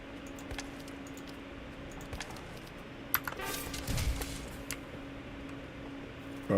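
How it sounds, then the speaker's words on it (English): Quiet, sparse keystrokes on a computer keyboard patter in short irregular bursts over a low background hum, close but faint, with no voices. "Apparently it reduces the sound of typing by quite a lot"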